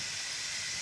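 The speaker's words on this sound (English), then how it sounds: "You can see it's gushing up all the pressure out of the pressure cooker." A pressure cooker vents its steam pressure in a steady, loud, continuous hiss that holds unbroken through the short stretch.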